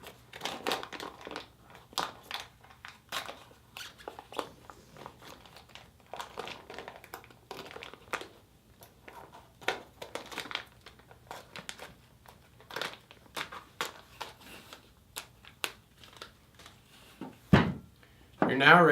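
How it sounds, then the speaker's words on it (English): Soft snipping of safety scissors trimming thin plastic glove film, crinkling in short bursts, close and quiet, with a louder rustle near the end. "We recommend using safety scissors to carefully trim this out."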